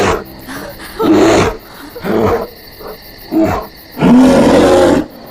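A bear roars several times in a Hindi-dubbed horror movie, loud close bursts of growling with short quiet gaps between them.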